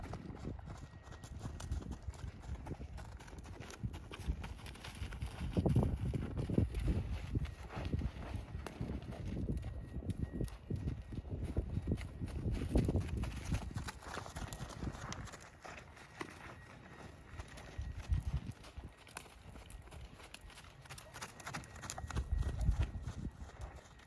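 A ridden horse's hooves clip-clop steadily on the ground for a long stretch, a continuous rhythmic patter at moderate distance over soft outdoor background noise, with faint voices now and then.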